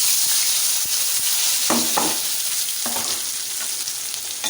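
Whole spices drop into hot oil for a chicken curry and sizzle loudly up close, a bright steady crackle with a few sharp bursts as more goes in, and no talking.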